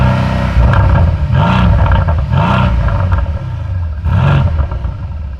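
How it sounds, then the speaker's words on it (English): A 2020 Mercedes C63 AMG with the AMG Sport exhaust revs loudly up close, its deep engine roar climbing and falling in several throttle blips over a steady rumbling idle. "This particular car also has the AMG Sport exhaust, so I'll show an exhaust clip of that now."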